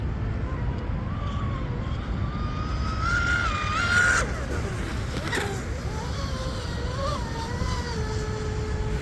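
A Tenshock EVO2250HP 40/80-size brushless motor drives an M950 RC speedboat, producing a high whine that climbs and sags as the boat runs. The whine sits over a constant rushing wash of water.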